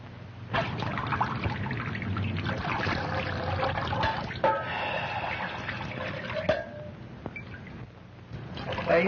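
Water trickles and pours steadily, a continuous liquid running sound like a tap left on, with a few sharp knocks and clatters breaking in; no one speaks over it.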